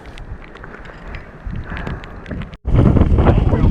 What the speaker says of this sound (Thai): ลมแรงมากนะครับตอนนี้